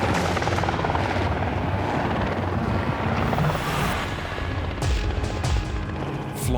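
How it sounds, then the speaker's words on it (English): Mustering helicopter flying through the narrow valleys of Queensland's Great Dividing Range gives a loud, steady rotor chop and engine roar that fills the clip without letup, with no talk over it. "Brett Sommerlad must have faith in his chopper and his skill"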